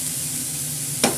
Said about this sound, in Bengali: এবার এটা নেড়ে ভালো করে আপনার ঢাকুন দিয়ে দেবো